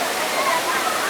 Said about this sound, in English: This waterfall has like a few pools and stuff you can go swimming at.